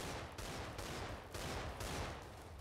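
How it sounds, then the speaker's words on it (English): Dense, continuous bursts of gunfire in Minecraft Mine Strike, a steady barrage of overlapping shots with a few brief dips, loud and close, with no talking. "I'm being shot at."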